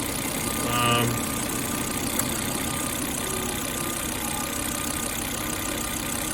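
A 2004 Volvo S80 engine runs at a steady idle for several seconds, a continuous low hum heard close up.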